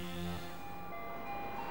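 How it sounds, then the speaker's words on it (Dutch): A short electronic chime melody plays on the Nedcar car assembly line, signalling the line's current state. The tones are steady and sustained, somewhat distant, with faint background hum. "Elk moment waarin de montagelijn verkeert, heeft trouwens een eigen melodie."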